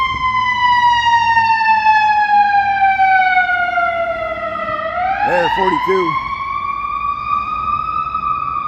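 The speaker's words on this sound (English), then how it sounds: "Here comes the ambulance. Let's check this ambulance out." A loud wailing ambulance siren on a city street sweeps slowly down and back up in pitch, with a brief warbling yelp midway; a voice speaks briefly over it.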